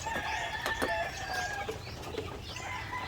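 Young chicks peep and chirp in a brood, with overlapping high, thin calls and some clucking from fowl nearby, fairly close and steady, without talk.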